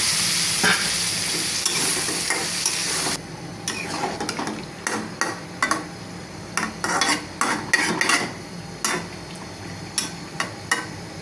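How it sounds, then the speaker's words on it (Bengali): Meat is added to fried spices in a pan for a dried-fish curry, a steady loud sizzle at first, then the sizzle drops and the spoon scrapes and clacks against the pot in irregular bursts. "মশলাটা ভাজা শেষ, এখন দিয়ে দিলাম মাংসগুলো।"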